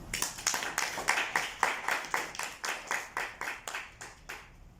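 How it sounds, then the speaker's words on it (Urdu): A church congregation clapping during an Urdu sermon, a rhythmic series of loud unison claps in a steady beat that thins and fades toward the end. "میرے یسوع کے لیے زوردار تالی"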